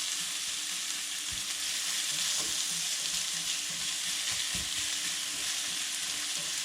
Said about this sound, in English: Okay, we have to saute this